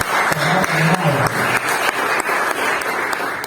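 Applause from a church congregation at a Pentecost service, steady dense clapping throughout with a brief sung or spoken voice tone underneath early on.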